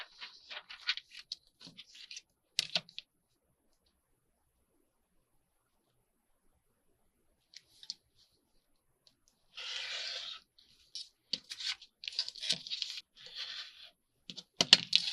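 Paper being cut while making long paper folios with fold-ins, heard as a short run of crisp snipping and rustling close up, with scattered small handling taps before and after and no talk.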